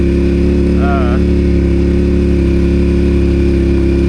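An adventure motorcycle engine runs steadily and loud while riding through snow on a mountain trail, a constant close droning rumble with a brief rising whine near the start.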